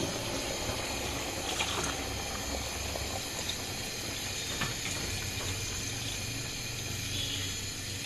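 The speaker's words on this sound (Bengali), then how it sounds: "পানি দিয়ে দিচ্ছি অল্প করে" Water goes into a pan of chicken and potatoes being sautéed with spices, a continuous close bubbling, sizzling wash of liquid that holds steady throughout with no talking.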